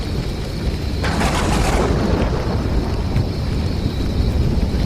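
A heavy thunderstorm with steady rain, a loud rumbling roll of thunder building and fading over the constant dense hiss of rainfall, no voices.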